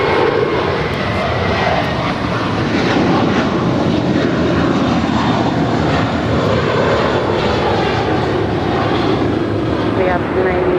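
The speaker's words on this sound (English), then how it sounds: "Got the Singapore 777-300ER now pushing back from the gates." A Singapore Airlines Boeing 777-300ER pushing back from the gate at LAX, a loud, constant engine whine and roar close by, with a voice talking over it.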